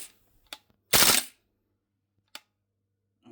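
A VFC T91 gas blowback airsoft rifle fires a single short burst in burst mode, one loud broadband blast of rapid shots, followed by a couple of faint mechanical clicks in an otherwise quiet room.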